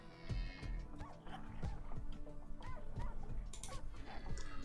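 Dogs and puppies in the Rimworld video game bark and yip repeatedly with a Ripper Hound nearby, a busy run of rhythmic barks over steady game background sound.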